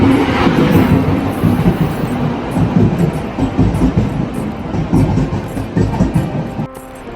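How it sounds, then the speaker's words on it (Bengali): A passenger train pulls out of a station on a route toward Kerala, producing a loud, steady rolling rumble with rattling carriage noise that eases slightly in the final second. "এলএপি স্টেশন থেকে আমাদের ট্রেনটা ছেড়ে দিয়েছে"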